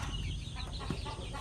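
Chickens at a poultry farm cluck softly at a distance over a low, steady background rumble, with no talking.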